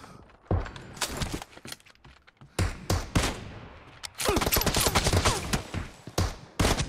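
PUBG Mobile team deathmatch gunfire: loud bursts of automatic shots and rapid volleys in clusters, with short pauses between them and faint footsteps underneath.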